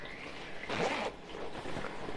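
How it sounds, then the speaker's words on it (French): A metal zipper on a pair of home-sewn shorts, handled up close: one short, rasping zip pull lasting under half a second, surrounded by quiet room hiss. "Et la fermeture éclair"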